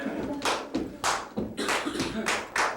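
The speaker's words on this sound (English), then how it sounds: "Now let's clap the odd beats and we'll slow the tempo down" A group of musicians at a eurythmics conference clapping the odd beats at a slowed tempo: about six sharp, evenly spaced claps with faint thuds and a voice murmuring beneath.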